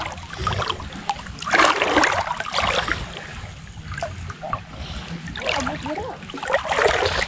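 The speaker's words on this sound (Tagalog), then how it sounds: "Ang dagat ito." Sea water at a beach in Leyte, washing and splashing in broad irregular surges that rise and fall over a couple of seconds each, close and moderately loud, with no voices.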